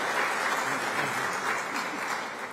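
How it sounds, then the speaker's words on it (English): A ceremony audience applauds the longest-serving governor of South Carolina at an Order of the Palmetto presentation, a dense, steady wash of many clapping hands at close range throughout. "So a round of applause for the longest serving governor of our state."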